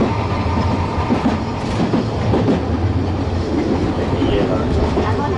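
An old Nagasaki tram rumbles along its rails with a steady low roar and rhythmic clacking wheels, heard from inside the car at close range with no one talking.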